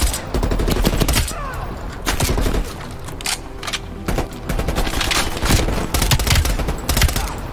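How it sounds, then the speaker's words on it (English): Rapid bursts of gunfire fill a Call of Duty Black Ops Cold War battle, dense automatic volleys and scattered single shots overlapping loudly and almost without pause throughout. "I'm definitely doing all the shooting at the enemies here."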